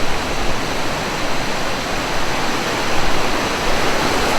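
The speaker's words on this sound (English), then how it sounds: "It is loud. It's a lot of water." A creek in flood rushes loudly and continuously, a dense roaring wash of water close by with no pauses and no voices over it.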